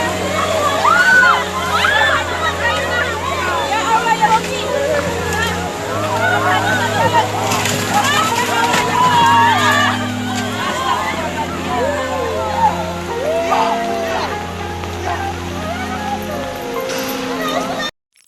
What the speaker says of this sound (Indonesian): arus air sungai yang deras